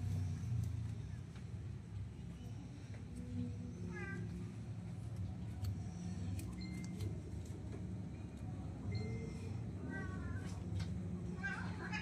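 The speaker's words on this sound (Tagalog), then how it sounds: "Ngiyaw ng ngiyaw. Hindi mapakali." A cat meows a few times in short rising calls, moderately close, over a steady low rumble of passing traffic.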